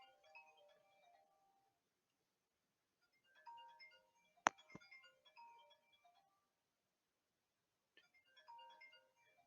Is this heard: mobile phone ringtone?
yes